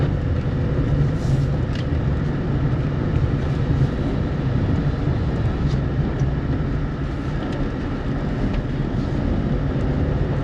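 Car engine straining up a steep residential road in Bani Gala, Islamabad, a loud continuous low rumble with steady road and wind noise throughout, no pauses.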